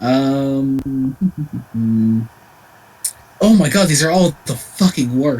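A mobile phone's notification chime rings out as a short run of clean repeated electronic tones, loud and close, before someone speaks over a quiet room during a livestream.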